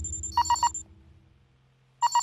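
A cell phone rings with two bursts of rapid, repeating electronic tones separated by a pause, loud and close over a low background hum.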